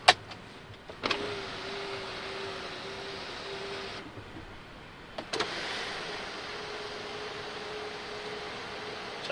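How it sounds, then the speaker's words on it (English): Electric rear sunshade motor in a BMW 760Li E66 V12, a steady whirring hum running about three seconds, pausing, then running again, quiet and close inside the cabin with no talking. "And we also can control the sunshade in the back."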